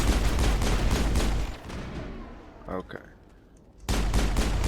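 Dense, rapid gunfire in the Mass Effect video game, loud and continuous, with a pause before it resumes. Someone speaks a single word in the lull.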